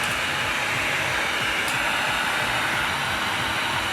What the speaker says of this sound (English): now we're gonna hit it with a heat gun